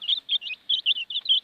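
High, thin chirps from Pekin bantam chickens come in quick repeated bursts, a rapid run of small peeping calls close by with brief gaps between them.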